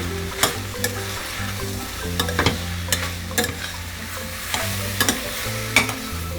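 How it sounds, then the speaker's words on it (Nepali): Cumin-coriander and chili powders frying in a pan for a taro, taro leaf and okra curry, steady sizzle punctuated by regular sharp scrapes of a spoon stirring. "मसलालाई पनि भुटौँ।"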